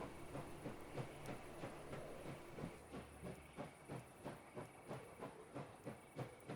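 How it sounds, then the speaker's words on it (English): A steam train in the video game Last Train Home pulls away, its rhythmic chuffing and hiss repeating steadily at moderate volume with faint rail clatter underneath, no voices present. "So we'll depart and we'll get our train to here."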